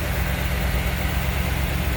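A 1992 Chevrolet Camaro Z28 25th Anniversary Edition with a 5.7-litre 350 cubic inch tuned port fuel injected V8 idling, a steady low rumble throughout, close and even.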